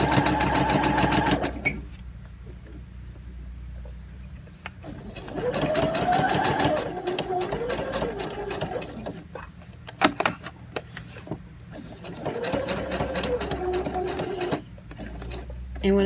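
A sewing machine stitches a throw pillow seam with backtacking at the start, its motor hum and fast needle rattle running in two long bursts. Between them come pauses, a few clicks, and a person talking.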